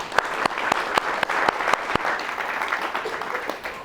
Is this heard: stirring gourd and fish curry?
no